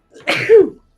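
A single sharp sneeze bursts out up close during a sports podcast chat: a brief breathy intake, then an explosive voiced blast that fades within a second.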